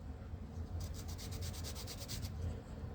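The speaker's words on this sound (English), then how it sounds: "So if you needed to sand an inside edge like that," A Rabid Models edge sander rubs into an inside corner of balsa wood, giving a quick run of about a dozen rhythmic, close scraping strokes over a quiet background.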